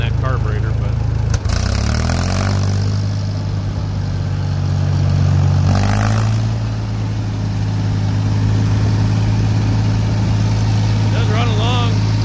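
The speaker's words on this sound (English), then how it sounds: "Good running tractor. It does have a little bog when you really give it throttle." A 1969 Ford 3000 tractor engine runs steadily at close range, a low throbbing idle with brief throttle surges, while someone talks over it.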